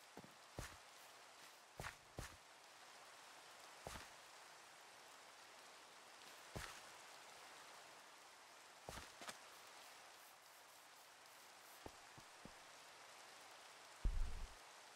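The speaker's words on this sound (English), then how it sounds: "it really does rain too much in Minecraft" Steady hiss of rain falling in Minecraft, with scattered footstep-like taps and a louder thump near the end, at a low, even level with no talking.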